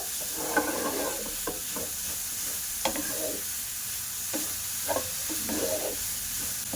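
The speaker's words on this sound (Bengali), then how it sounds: "এবার ভালো করে একটু কষিয়ে নেব" Grated carrots are stirred and fried in a pan for carrot firni: a constant sizzling hiss with scraping spoon strokes and a few sharp knocks against the pan, close up and without talk.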